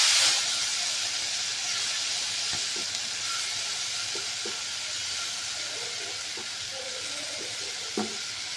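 Tomato paste sizzling in a frying pan, a soft steady hiss with occasional faint pops and clinks, fairly quiet and without voices.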